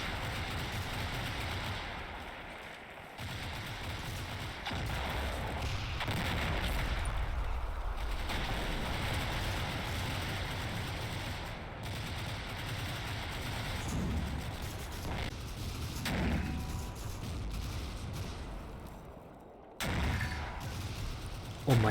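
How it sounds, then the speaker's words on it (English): 81mm mortar fire against armour in the wargame Combat Mission Fortress Italy: a continuous din of distant shelling and gunfire, rumbling steadily throughout with no talk. "we pepper armour with 81mm mortars in an attempt to damage some of the equipment"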